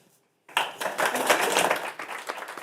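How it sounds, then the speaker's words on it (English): Audience applause for a panel discussion at an event on minerals and electric mobility, bursting in after a brief silence and continuing as sustained, fairly loud clapping from a room crowd. "Please give Jack and all the panelists another round of applause"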